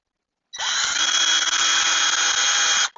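A power drill boring a pilot hole in wood: a single sharp motor whine that spins up abruptly, holds steady and loud for about two seconds, then cuts off cleanly, close and alone.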